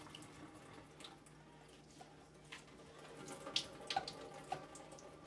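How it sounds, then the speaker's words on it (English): Whey water poured off homemade cottage cheese into a kitchen sink, a faint, continuous trickling stream with scattered splashes and drips that grow slightly louder toward the end. "So I'm just gonna dump the water."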